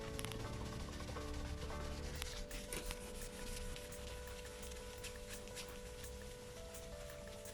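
Hand polishing the headstock of a 1972 Gibson SG Deluxe guitar with fine 2000-grit abrasive, giving a steady close rubbing and scrubbing texture that carries on without pause.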